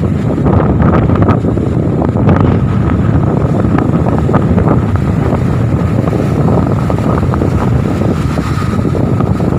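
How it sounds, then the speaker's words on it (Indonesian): Strong wind roars across the microphone at a beach by the sea at Anyer, a continuous loud buffeting rush with surf blended underneath, steady for the whole stretch with no talking. "Wah, anginnya kencang banget."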